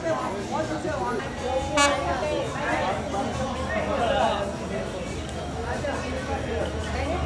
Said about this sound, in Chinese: 快看，朋友们，火车来喽！